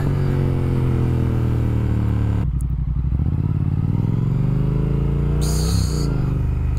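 A Triumph Speed Twin motorcycle rolls on in second gear, its engine drone rising steadily in pitch as it accelerates, loud and close, with wind noise and a brief higher whine near the end and no talking.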